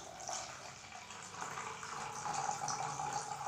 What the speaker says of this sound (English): I have put water till minimum, then I will increase the water level till medium